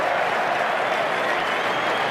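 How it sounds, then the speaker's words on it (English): A cricket crowd at the 2006 second Ashes Test in Australia applauds a shot with dense, continuous clapping that fills the whole moment without letting up. "all of a sudden the crowd are alive."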